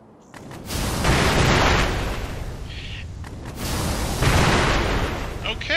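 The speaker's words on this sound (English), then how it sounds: "And the Shinobi Firecracker." Shinobi Firecracker prosthetic tool in Sekiro going off as a sharp burst followed by a loud crackling spray of sparks, then a second burst, with a voice faintly talking over the game.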